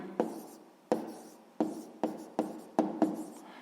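A pen writes out a math answer on paper in short scratchy bursts, six or seven quick strokes with brief pauses between them, close and fairly quiet, with no talking.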